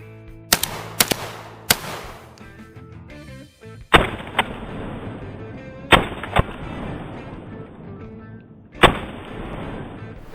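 A CZ 712 semi-automatic shotgun fires buckshot outdoors at a range, several sharp, loud booming shots spaced a second or two apart, each followed by a short echoing tail, with no talking.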